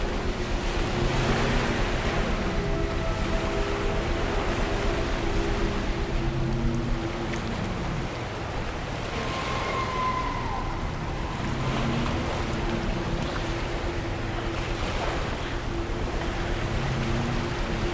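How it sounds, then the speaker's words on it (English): A waterfall in the video game Among the Sleep gives off a constant broad rushing roar, steady and enveloping for the whole stretch, with faint tonal game sounds drifting over it. "This is indeed a waterfall."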